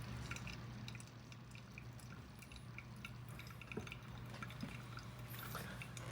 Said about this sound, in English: you're pouring it around five mils